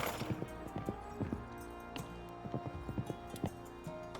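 Horse units in the Citadelum strategy game trot along with light, scattered clip-clop hoofbeats. They are fairly faint against a soft game backdrop.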